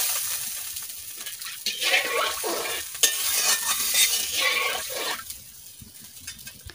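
Water is poured into a pan of frying fish and taro curry, setting off a loud hissing sizzle and splash that lasts a few seconds before settling back to a quieter simmer, with stirring.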